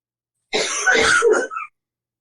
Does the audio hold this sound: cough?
yes